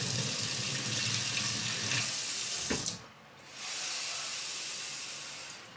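Cold tap water runs steadily into a pan holding two eggs in a home kitchen, a close hissing stream that briefly drops off and then resumes.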